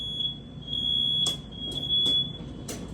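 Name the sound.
faulty wired smoke detector beeping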